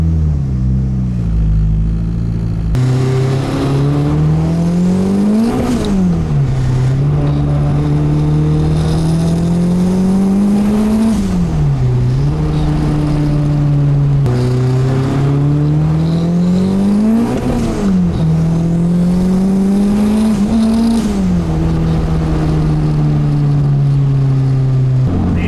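A Nissan Cefiro with a swapped Honda K24 engine on a short cruise, its engine droning steadily and loud from inside the car, revs rising and dropping repeatedly through gear changes.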